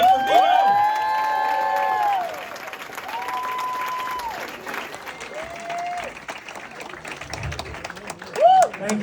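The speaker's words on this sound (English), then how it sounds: "Clap for Vito." A comedy club audience applauds and cheers as a comedian takes the stage, with loud clapping and whoops that gradually thin out, while a voice speaks over the crowd.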